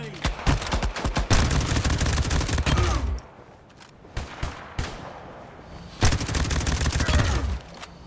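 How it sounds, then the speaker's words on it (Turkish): Rapid bursts of automatic and single gunfire from a street shootout in a GTA-style mobile game, loud and dense for the first three seconds, then scattered shots and another heavy volley near the end, with no voices over it. "resmen sokakta çatışma var"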